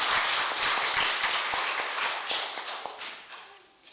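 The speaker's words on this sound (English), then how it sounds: "I'd like to give them a nice round of applause to all of those that have been." A church congregation at a Christmas Eve Nativity Eucharist applauds its leadership team, a full round of clapping that thins out and fades toward the end.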